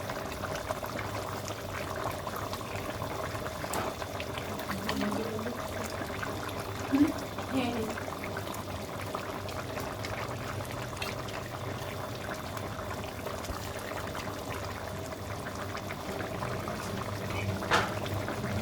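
A pot of rohu fish curry with cauliflower, beans and new potatoes bubbles and simmers in a steady low burble, moderately quiet and continuous, with occasional faint clinks in the background.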